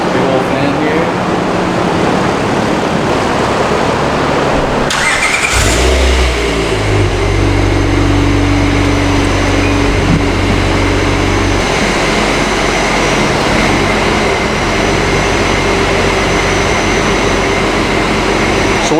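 A supercharged Acura TL on a load-bearing hydraulic dyno in a shop with a large fan. A steady whooshing drone jumps into a loud low engine roar partway through, and the roar then holds.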